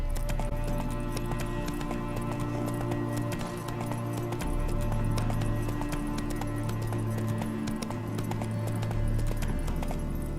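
Roach the horse gallops in The Witcher 3, hooves pounding in a steady fast clip-clop rhythm, loud and continuous over a layered game soundtrack.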